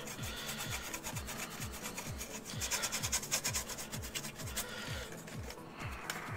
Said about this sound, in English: Get the rivets a quick dry brush.